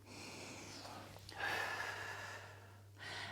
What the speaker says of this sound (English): Nice big breath here.